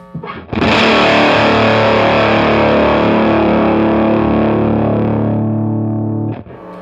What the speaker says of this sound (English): All right, here's the overdrive.